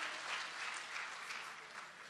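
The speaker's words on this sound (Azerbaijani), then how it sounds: "Bu cürə səsi tənzimləyən Arzu Xalidoğluna alqışlarınız gəlsin." Sustained audience applause at a 55th jubilee celebration, a dense steady wash of clapping filling the room for the whole stretch before easing slightly toward the end.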